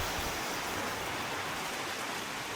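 Steady, dense hiss of wind-driven rain on a rainy, windy night in Iloilo, Philippines, unbroken and fairly distant, with no one talking.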